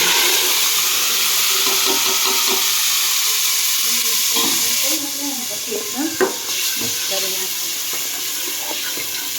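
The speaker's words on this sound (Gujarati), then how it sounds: "એટલે આપણે હવે નાખી દઈએ ડુંગળીની પેસ્ટ." Onion paste dropped into hot tempering oil for chole, a loud continuous sizzle and crackle with spoon stirring and scraping, a brief voice heard under the frying.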